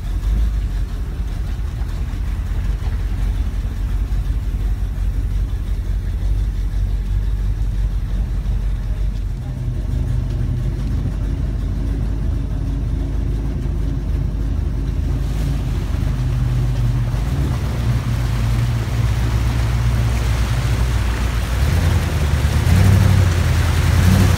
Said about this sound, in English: this is the swamp buggy ride that we asked for.